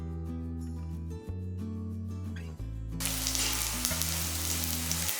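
Green chillies and crushed garlic fry in a pan, a bright sizzle rising suddenly partway through and continuing steadily beneath sustained background music.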